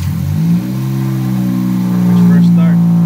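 A 2016-or-later Honda Civic fitted with a PRL downpipe fires up for the first time, a loud, steady engine drone that swells louder toward the end as the revs climb.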